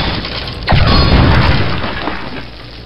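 Explosive objects shot and blown up in HeXen II: a loud, sudden boom with shattering debris that rumbles on for about two seconds, close and with no voices.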